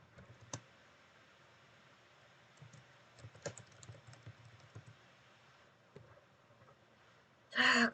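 Typing text on a computer keyboard: scattered soft key clicks in irregular short bursts, fairly faint and close, ending with a brief louder burst of rustling noise, no talking.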